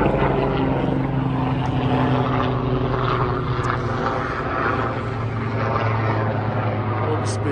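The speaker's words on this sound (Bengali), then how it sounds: "হেলিকপ্টার" A helicopter passing overhead near a market, a loud steady low engine drone and rotor throb dominating the whole stretch, with faint background voices.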